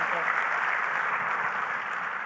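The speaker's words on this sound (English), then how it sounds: "So please give her a round of applause." A keynote audience in a large hall applauds with a continuous, even wash of many hands clapping, heard at a moderate distance and holding steady throughout.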